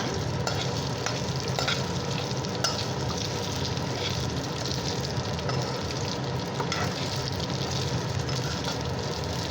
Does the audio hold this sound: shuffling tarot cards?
no